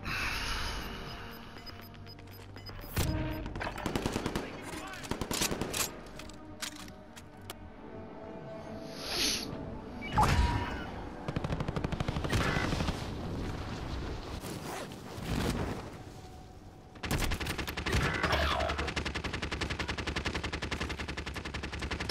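Bursts of gunfire from a shooting video game crackle in scattered volleys with quieter gaps between, loud and up close, with no talking.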